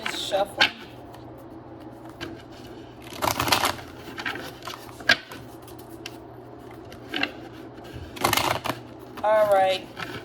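A deck of reading cards is shuffled by hand in two quick riffling bursts, with lighter taps and card handling between them at close range.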